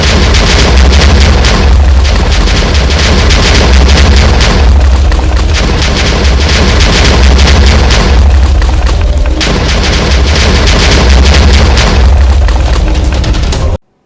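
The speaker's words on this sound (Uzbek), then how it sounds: "portlatamiz." Dynamite exploding in Minecraft as a rapid chain of loud, booming blasts that rumble continuously for many seconds before cutting off abruptly.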